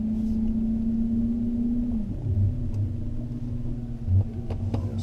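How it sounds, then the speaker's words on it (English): A BMW E31 840Ci converted to electric drive reverses slowly into a driveway, giving a steady low hum and rumble with a faint whine that shifts pitch midway, and no voices. "so I'm going to just reverse back into the drive now."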